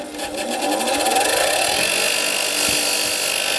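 Steady whirring buzz of a key-cutting machine's buffer brush as a freshly cut key is held lightly against it to remove burrs, loud, close and continuous, with no voices.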